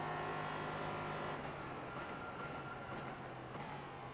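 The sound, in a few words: LMP3 race car engine revving in iRacing video game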